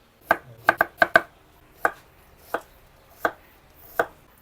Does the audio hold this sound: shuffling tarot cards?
no